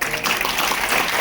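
Audience clapping fills the room at a comedy talk show, a dense, steady wash of applause from a crowd that holds at an even level throughout the short burst with no voices over it.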